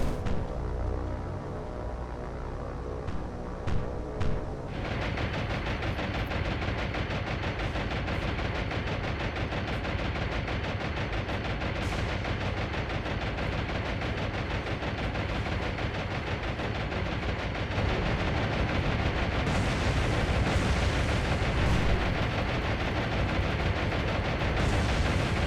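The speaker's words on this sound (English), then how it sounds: "Guns are blazing by the sounds of it." Naval gunfire in the War on the Sea video game: dense, continuous rumbling bursts of heavy shots and rapid fire roll on without pause, loud and close, with no voices over it.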